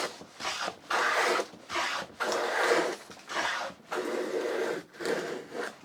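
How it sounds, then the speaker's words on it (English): A hand plane runs along the long edge of a board on a shooting board, taking full-length shavings to square it. About seven rhythmic, close rasping strokes follow one another with short pauses, and no voice is heard. "you're just waiting to hear for a full length shaving like we just got there"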